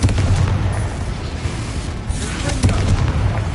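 Spell explosions in the Hogwarts Legacy video game, a dense barrage of heavy booms and bursts rolling almost without pause, loud and close, with a fresh blast near the start and another toward the end.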